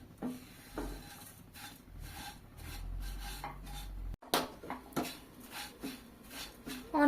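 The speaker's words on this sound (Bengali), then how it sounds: "চুলার আঁচ লো টু মিডিয়ামে রেখে" Lachha semai vermicelli is fried and stirred in a pan over low to medium heat, giving quiet, intermittent scraping and light clinking strokes of a utensil against the pan, with no talking.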